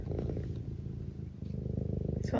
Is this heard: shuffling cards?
no